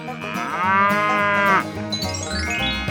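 A cow in a 3D animal slide video game gives one long, loud moo that swells and fades over game music, followed by a bright rising chime, with no one talking.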